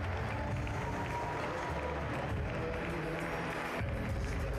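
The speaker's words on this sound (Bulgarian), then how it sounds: "сега ще чуем много по-големи аплодисменти за представителя на Шуменска крепост Георги Атанасов" Audience applause at a Shumen boxing event: a steady wash of many hands clapping from a large indoor crowd, moderately distant and continuous, with crowd murmur mixed in.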